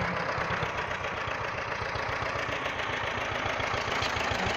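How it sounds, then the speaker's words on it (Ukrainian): A tractor engine runs steadily during inter-row cultivation of a pumpkin field, a loud, close, rhythmic diesel chug with constant mechanical rattle and no voices. "Ось вона загониться в рядок, міжряддя верніше, вирівнює трактор."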